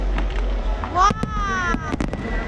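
Fireworks crackle and boom in a couple of sharp bursts over lively chatter and a low rumbling background.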